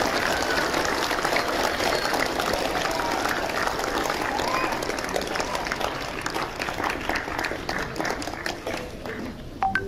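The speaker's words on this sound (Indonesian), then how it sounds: "Tepuk tangan untuk para guru" Audience at a PGRI Teachers' Day ceremony clapping for teachers, a dense sustained round of applause that gradually thins and grows more scattered toward the end.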